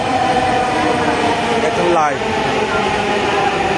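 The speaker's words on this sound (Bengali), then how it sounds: "দুইটি ট্রেন একসাথে এই প্রথম পড়ল।" Two Dhaka metro trains pass each other, a steady loud rumble of rolling carriages holding throughout, with a brief swelling whoosh midway as they cross; a person speaks over it.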